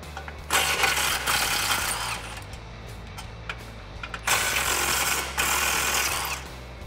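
Bursts of buzzing from a power tool, probably an impact gun, spin a 13 mm socket on an extension to unbolt exhaust hangers on a 2015-2020 Mustang EcoBoost, with short runs close by and pauses between them.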